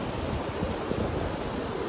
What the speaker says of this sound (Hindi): देख सकते हो बानेर नदी को।